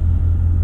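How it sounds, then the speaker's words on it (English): A Shelby GT350 V8 holds a deep, steady low rumble, loud and close, for a brief moment with nothing else over it. "if you like the noise that the V8s make, one of the best V8s out there, especially the sound,"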